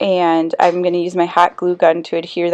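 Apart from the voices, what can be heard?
No everyday noises stand out.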